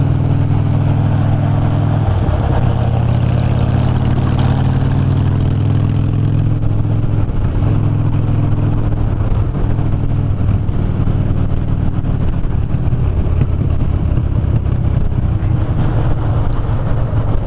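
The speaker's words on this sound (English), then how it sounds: "I'm just driving around to kind of get a feel for this exhaust." A motorcycle fitted with an aftermarket exhaust rides along, a loud steady engine drone with shifting revs and a few brief dips throughout, overlaid by wind rush.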